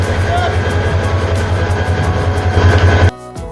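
A train engine idling at Chandpur railway station, a loud steady low diesel rumble close by that cuts off abruptly near the end.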